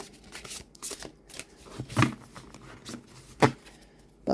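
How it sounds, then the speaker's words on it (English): A thick tarot card deck gets shuffled overhand, giving soft papery riffles and a few sharper slaps at irregular intervals, close and fairly quiet with no talk. "it's definitely a struggle for me to shuffle, but overhand, even overhand, it's such a thick,"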